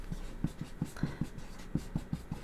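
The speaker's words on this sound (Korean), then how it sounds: "이렇게 좀 밑에다 써볼게요." Chalk or marker strokes on a board during a Korean history lecture, a string of short evenly spaced taps and scrapes, close and fairly quiet, with no talking.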